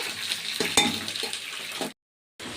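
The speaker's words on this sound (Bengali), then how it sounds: "এবার এইটা একটু নেড়ে নিই" Mutton and potato curry frying in a pan gets stirred, a soft sizzle with scraping spoon strokes and a clink, then a brief silence before the sizzle returns.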